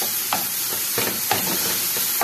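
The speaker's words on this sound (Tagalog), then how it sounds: "Haluin natin para magita siya ng mabuti." Chicken and cucumber sizzle steadily in a pan while a utensil stirs them, giving a constant frying hiss punctuated by several soft scraping clinks, close and without talk.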